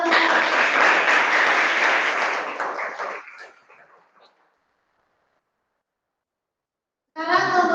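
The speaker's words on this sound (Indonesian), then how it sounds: "Silakan beri aplaus untuk kelompok 1." A classroom group gives a round of applause for the first presenting team, dense clapping that fades out around the middle, then silence before another burst of clapping starts near the end.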